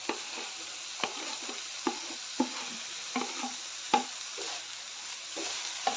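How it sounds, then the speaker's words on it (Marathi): Fried potato slices being stirred into a simmering gravy in a pan, with a steady background sizzle and repeated scraping clacks of a spoon every second or so, close and fairly quiet, no voices. "ग्रेव्हीमध्ये चांगलं मिक्स करून घेते"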